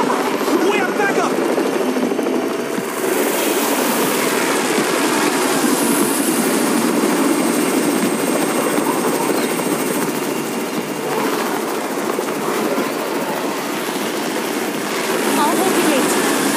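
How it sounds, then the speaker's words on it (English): A helicopter flies over a zombie-infested scene in the UNDAWN video game, its loud, steady rotor and engine roar filling the whole stretch, close and continuous. "It's the Raven's chopper! We have backup!"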